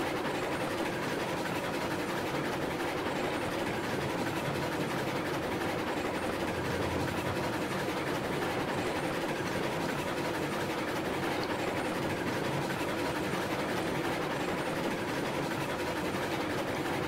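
A Mogul steam locomotive runs in the train game Railroads Online, producing a steady, continuous mechanical rumble with faint rail clatter that holds evenly throughout, with no talking.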